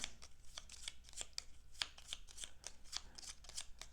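Cards for the Unmatched board game being shuffled, a quiet, close run of quick riffling flutters and soft slaps repeating in bursts, with no talking.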